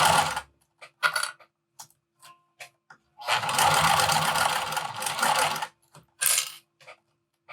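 Sewing machine stitching a vinyl wristlet with a snap hook, running in short bursts and then one long steady run, close and fairly loud with pauses between stretches.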